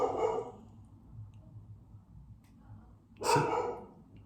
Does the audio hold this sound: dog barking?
yes